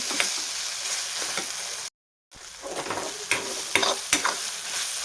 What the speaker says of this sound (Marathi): फक्त तेलामध्ये एक दोन मिनटं थोडंसं हळद मीठ टाकून छान परतलं ना की जास्त वेळ नाही लागत